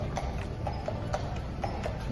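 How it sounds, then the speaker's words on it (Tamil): Horse-drawn carriage in Switzerland, hooves clip-clopping in a steady, evenly spaced trot nearby, each hoof strike crisp and distinct over low background rumble. "இங்க ரொம்ப ஃபேமஸான குதிரை வண்டி வந்துட்டு இருக்கு."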